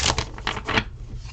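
Oracle cards are shuffled by hand in a deck: quick papery riffling and scratching in several short bursts close by, with no speech.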